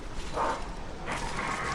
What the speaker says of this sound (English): Oh god, bloodborne dogs.